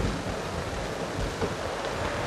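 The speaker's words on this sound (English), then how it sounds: "Is it always windy like this out here?" Steady wind roaring and buffeting across the microphone, a constant rushing noise with no voices.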